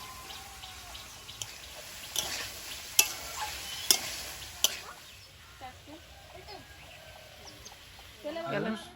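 Okra sizzles in a pan with potatoes and turmeric while being stirred for an okra-potato fry. A steady frying hiss runs throughout, with a few sharp utensil clinks against the pan in the first half and faint voices in the background.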